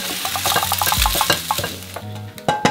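White spice paste mixed with chili sautéing in a pan, a steady sizzle under repeated scraping stirs and light clinks of a utensil against the pan, close and fairly loud with no talking.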